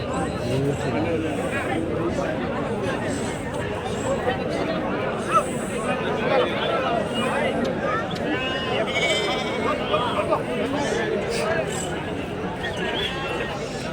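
Sheep and lambs bleat repeatedly at a busy outdoor livestock market yard, the calls rising over a constant babble of people talking nearby.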